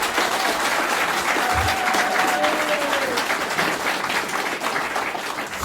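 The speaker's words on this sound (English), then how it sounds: "give a round of applause, please, for Jeremy Corbyn MP." A lecture audience claps steadily throughout, a dense continuous wash of applause with a voice faintly heard beneath it.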